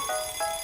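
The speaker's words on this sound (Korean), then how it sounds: "휴대전화 알람에," A mobile phone alarm rings in two short repeating tonal beeps, steady and clear, with no one talking.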